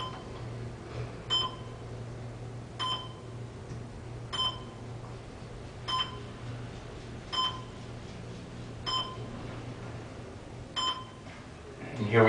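Short electronic beeps from a Schindler traction elevator passing each floor repeat at even intervals, about every one and a half seconds, over a low steady hum of machinery.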